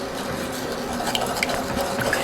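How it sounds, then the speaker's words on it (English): A spoon stirs a ham mixture in a bowl for a spiral sliced ham dish, giving a soft, steady scraping and squishing close up, fairly quiet and on its own. "So we want to stir this together."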